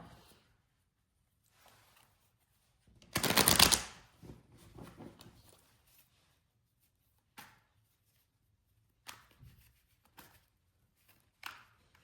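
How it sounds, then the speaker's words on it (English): A short burst of tarot card shuffling, a quick riffle lasting about a second, followed by scattered soft taps and handling noises in a quiet room. "I'm going to shuffle up these cards a little bit, just mix them around."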